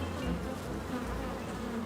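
Bees buzzing inside a garden hive or nest, a faint continuous hum of many insects heard alone with no voices.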